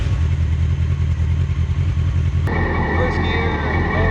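A mini trophy truck's warmed-up engine runs loud and close with a deep, steady rumble, then shifts pitch as it pulls away in first gear, low range, two-wheel drive.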